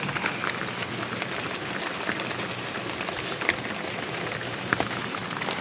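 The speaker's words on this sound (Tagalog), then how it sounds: "Na, umulan na nga. Tarapal na kami." Rain falls steadily on a tarpaulin shelter, making a constant dense hiss with a few louder drops standing out now and then.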